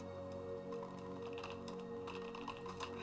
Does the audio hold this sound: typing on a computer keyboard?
yes